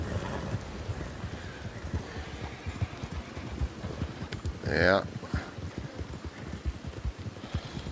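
Horse hooves clip-clop rapidly in a steady galloping rhythm throughout in Red Dead Redemption 2, with a brief whoosh midway and a voice speaking briefly.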